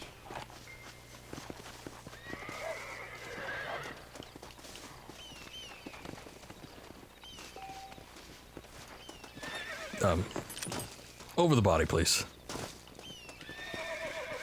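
A horse whinnies sharply and hooves clop in the video game Red Dead Redemption, with someone speaking briefly over a faint background hum.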